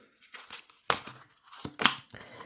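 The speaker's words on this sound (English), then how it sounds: "Let me shuffle well." A tarot deck is shuffled by hand in a few quick, crisp riffles and slaps of cards, close and fairly quiet, with short gaps between bursts.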